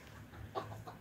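Chickens clucking faintly nearby, a few soft scattered clucks over quiet outdoor background.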